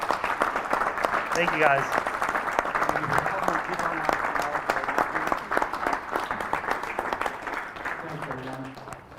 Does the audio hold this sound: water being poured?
no